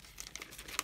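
A plastic mail package crinkles as it is opened, a brief burst of close, crackly rustling with a few sharper crackles at the end.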